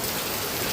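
Heavy rain driven by strong wind pours down in a dense, steady roar that stays loud and constant throughout, with no voices.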